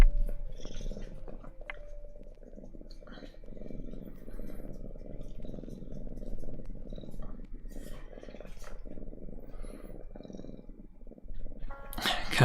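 A pet cat named Kenji purrs close by in a steady, continuous low rumble that runs unbroken for the whole stretch, with a brief brighter rustle right at the end.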